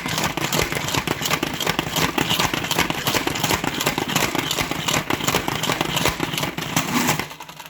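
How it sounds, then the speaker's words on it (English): Fresh herbs spin in a salad spinner, making a continuous loud whirring, rattling drone that runs steadily before stopping near the end. "rearrange them a little bit and move them around so that they can rotate around in there and get a good spin on them"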